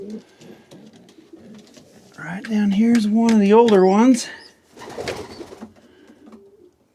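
Pigeons coo in a breeding loft, a warbling call that swells and repeats for a couple of seconds while someone talks before and after it nearby.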